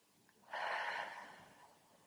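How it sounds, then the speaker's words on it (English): A single deep breath taken as part of a calm emotional-release exercise, a soft breathy rush swelling over about a second and tapering slowly, close and quiet, with no talking. "Take a deep breath"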